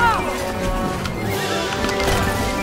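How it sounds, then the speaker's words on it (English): Horses in the video game It Takes Two whinny loudly at the start, followed by clattering hooves and crashing game effects that continue underneath. "So you can ignore the horses."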